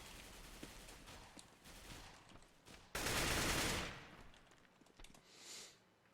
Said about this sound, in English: This guy's shooting.